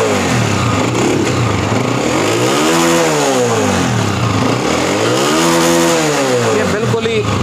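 A Honda CG125 motorcycle with a damaged carburetor insulator revs loud and close as the throttle is opened. The engine rises and falls in two strong swells over a constant idle.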